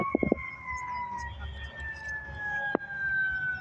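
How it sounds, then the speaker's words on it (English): Fire truck and ambulance sirens wail as they arrive at a motel, a faint distant rising tone under short vehicle sounds, with a sharp blip near the end. "here comes the ambulance and fire truck. There's the fire truck."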